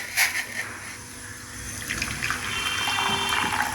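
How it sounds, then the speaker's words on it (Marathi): Hot water from a glass pours into a small metal pot, giving a short splash followed by a steady, growing trickle and gush that fills the pot at close range with no talking. "ग्लासवर पाणी गरम केलं आणि छोटा तांब्या आहे माझ्याकडे त्याच्यात मी उतून घेते"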